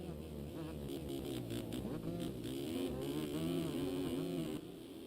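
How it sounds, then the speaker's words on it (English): Two-stroke motocross bike engine in the MX Simulator video game at a Sweden round, revving hard and steadily with a buzzing, wavering pitch throughout, loud and continuous with some layered engine drone. "revving this two-stroke for everything it's worth"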